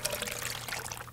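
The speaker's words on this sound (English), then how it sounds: "Pour them in." Canned peaches and their juice pour into a Dutch oven with a soft, continuous liquid trickle and splash, faint and close.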